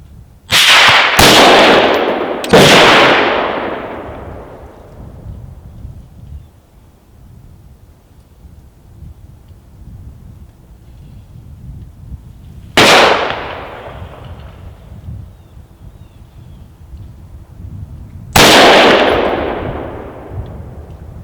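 Five sharp, loud rifle shots firing Black Hills 77 grain OTM factory-seconds ammunition outdoors: three in quick succession, then two more spaced well apart, each with a ringing decay.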